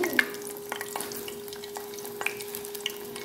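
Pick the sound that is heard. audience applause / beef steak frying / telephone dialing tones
beef steak frying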